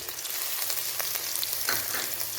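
Garlic and finely grated ginger frying with green chillies in a pan, making a dense continuous sizzle close by with faint stirring movements.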